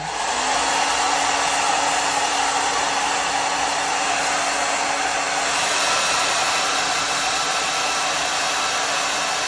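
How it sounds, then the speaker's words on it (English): A hair dryer on its hot setting blows continuously at close range, a loud steady whooshing roar with a faint whine, running the whole time without pause, while setting a wig into lace glue. "We're going in with the blow dryer on hot"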